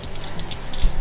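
Water running out of a boat motor, a Turbo Nova: a close, loud, continuous splashing gush with irregular trickling and dripping over a low churn.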